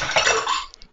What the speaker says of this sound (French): mettre tout au lave-vaisselle